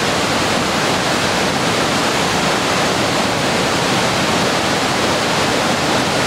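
A steady, loud roar of rushing water fills the whole clip, dense and unbroken, the Boulder River near Big Timber, Montana, churning close by.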